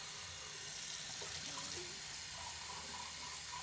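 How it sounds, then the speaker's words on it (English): Water runs steadily from a tap into a sink as a continuous, fairly quiet hiss with no talking. "I think they can hear the water"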